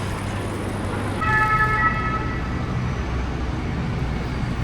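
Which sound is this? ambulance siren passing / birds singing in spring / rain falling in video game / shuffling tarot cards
ambulance siren passing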